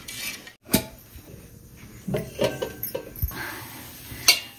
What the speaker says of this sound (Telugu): ఈ నీరు దోశ పోసేటప్పుడు వేసేటప్పుడల్లా ఇట్లా కలిదిప్పుకోవాలి ఫ్రెండ్స్